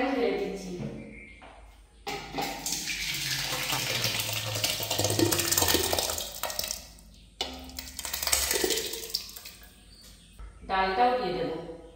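Soft, mashed cooked rice for home-style khichuri is poured into a cooking pot in long, loud, rushing bursts, with brief pauses and someone talking before and between the pours.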